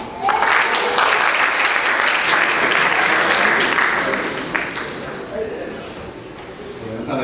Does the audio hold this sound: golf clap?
yes